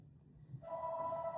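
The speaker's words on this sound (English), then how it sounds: "There's a phone in front of us." A telephone begins ringing partway through, a steady electronic tone rising out of quiet room noise after a short pause, moderately loud and continuous to the end.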